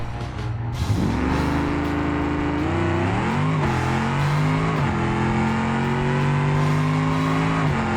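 A nitrous-armed drag car in the racing game BeamNG roars through a full pass, its engine note climbing steadily through the gears with brief shift dips. The sound stays loud and close the whole time, with no talk.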